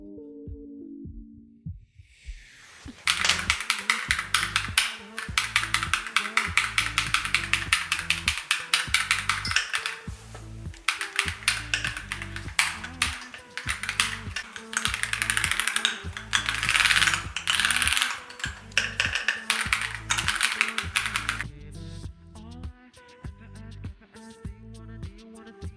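Typing on a KiiBOOM Phantom 81 V2 mechanical keyboard, a dense, fast run of crisp clacking keystrokes with a deeper thock, continuous for about twenty seconds after a brief quiet start, with no talk.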